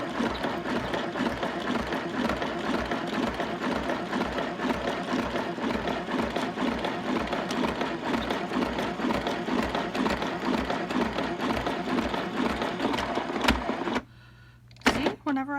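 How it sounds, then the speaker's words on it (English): Fast, steady mechanical whirring of a small, toy-like sewing machine stitching continuously, with a voice speaking over it before the motor stops briefly near the end. "It sounds sort of like a toy. It doesn't feel like a real sewing machine."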